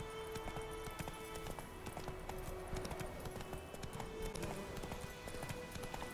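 Roach the horse trots along in The Witcher 3: Wild Hunt, with a steady, even clip-clop of hooves throughout, faint and continuous under quiet game ambience.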